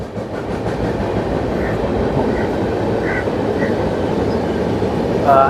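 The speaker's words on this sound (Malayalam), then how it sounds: "പാലത്തിക്കൂടെ ട്രെയിൻ വരുന്നുണ്ട്" A train crossing a bridge near Aroor in Kerala fills the scene with a loud, steady rumble and rhythmic rail clatter from start to finish, with a brief wheel squeal rising near the end.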